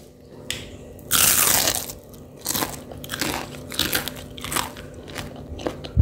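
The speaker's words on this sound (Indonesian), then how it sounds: "ini kalian bisa dengar sendiri ya kriuknya kayak apa" Loud, close crunching as a crisp fried vegetable fritter (bakwan sayur) is bitten, followed by several smaller crackly chews in an irregular rhythm.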